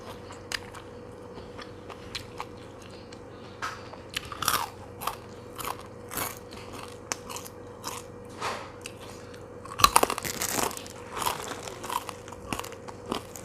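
Crispy fried kaffir lime leaves crunch in scattered bites, sharp crackling snaps spread out over a quiet steady background hum, with one louder cluster of crunches midway.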